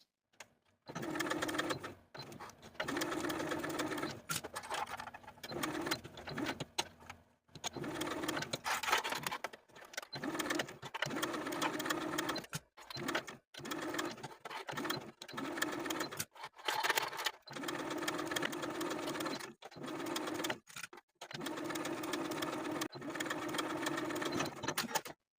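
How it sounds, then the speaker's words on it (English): A sewing machine runs a straight stitch around a dress neckline in several bursts of steady, rapid mechanical whirring, pausing briefly between runs, close by. "using my sewing machine and a regular straight stitch, I'm going to sew around the neckline"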